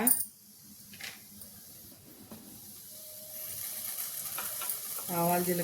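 Mustard seeds and cumin dropped into a tablespoon of hot oil in a pot on the stove, giving a faint close sizzle with light crackles and a brief stirring scrape near the end.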